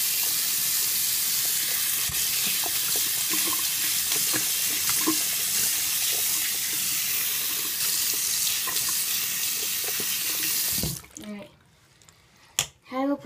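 A tap runs hard as an aquarium tank part is rinsed out under it. The water gushes and splashes steadily and loudly for about eleven seconds, then cuts off, leaving a few faint drips and knocks.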